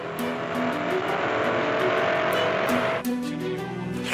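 A car is driven at 110 km/h with the accelerator pressed fully to the floor, in the same model as a vehicle in a suspected sudden-acceleration crash. Its engine gives a loud, sustained roar with a steady droning pitch that shifts slightly near the end.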